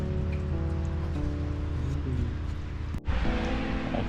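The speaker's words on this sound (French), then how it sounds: "Il pleut bien quand même." Steady, heavy rain pours down, heard from shelter beneath a bridge during a cold, wet cycling trip, forming a dense continuous hiss with one brief dull knock near the end.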